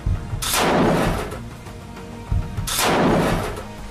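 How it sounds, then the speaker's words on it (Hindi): Two heavy, booming bursts of gunfire from a frontline battle, each a loud blast with a long rumbling tail, spaced about two seconds apart with no voices. "यहाँ पर अल कुद्स और मुजाहिदीन ब्रिगेड के लड़ाके मशीन गन से इजरायली सैनिकों पर ताबड़तोड़ फायरिंग कर रहे हैं।"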